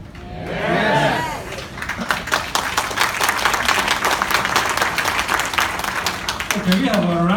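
A corporate audience at an Elken company event breaks into loud, dense applause with some cheering, framed by brief voices at the start and end.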